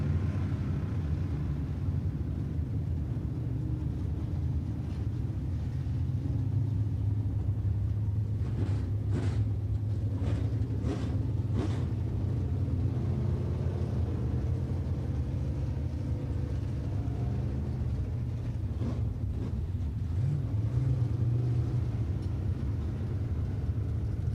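USRA B-Mod race cars at Tulsa Speedway produce a steady, distant engine rumble that holds throughout, with brief sharper passes standing out midway, and no talk over it.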